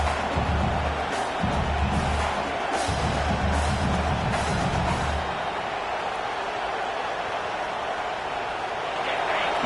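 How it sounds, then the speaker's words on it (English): A roaring stadium crowd in a college football video game forms a dense, continuous wash of cheering and noise throughout, with a commentator talking over it for the first half. "listen to this crowd noise. This stadium is vibrating."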